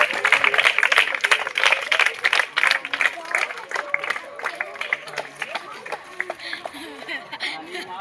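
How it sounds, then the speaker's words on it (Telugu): An audience at a child-marriage awareness programme in Kadiri claps to welcome the town police sub-inspector, with brisk rapid clapping that thins out over time beneath crowd chatter and voices. "అందరికీ ఒకసారి క్లాప్ కొట్టి ఇన్వైట్ చేస్తాం"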